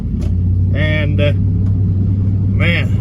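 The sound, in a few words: Chevy truck's 4.8 engine running while driving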